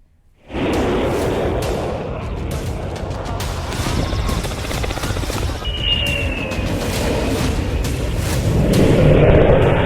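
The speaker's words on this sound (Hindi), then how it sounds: "गंगा एक्सप्रेसवे पर फाइटर जेट और हेलीकॉप्टरों की लैंडिंग का अभ्यास किया" Fighter jets and helicopters roar during a landing exercise on the Ganga Expressway in Shahjahanpur, Uttar Pradesh, a loud, continuous jet-engine rumble that starts abruptly and builds steadily, with a rising whine partway through.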